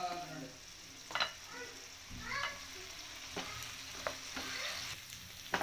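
Paneer pieces coated in a yogurt mixture being tossed and fried for paneer 65, a quiet, close sizzle broken by scraping spatula strokes and soft clatters at irregular intervals.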